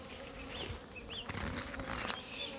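Honeybees swarm around a busy beehive in an apiary, a steady insect hum with a few brief rising tones over a constant buzz.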